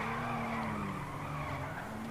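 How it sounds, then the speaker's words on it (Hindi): A super car races at speed and skids in a video game, with a steady roar of engine and tire noise that runs unbroken and loud from start to finish. "तुम्हारा भाई गाड़ी भगाते भगाते पुलिस स्टेशन तक तो आ गया है"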